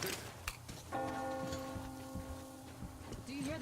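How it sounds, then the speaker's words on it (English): Church bell ringing in the video game Metro Exodus, a single sustained toll with a long ringing decay, heard over a low ambient rumble and background game sounds. "Do you hear that bell?"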